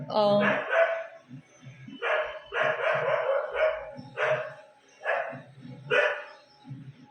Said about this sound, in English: I feel you heard this dog barking outside